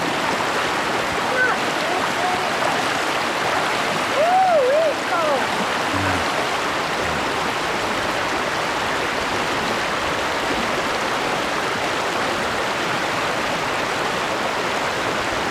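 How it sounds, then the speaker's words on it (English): Steady broadband rush of a flowing creek at Short Springs State Natural Area in Tennessee, heard up close as someone wades through the water, with a faint bird call partway through and no clear splashes standing out. "I love walking in the creek"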